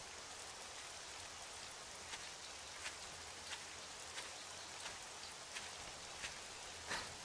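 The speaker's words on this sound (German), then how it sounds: "Es regnet doch." Rain in the survival game 7 Days to Die, a faint, even hiss of falling water with scattered sharper drips landing every second or so.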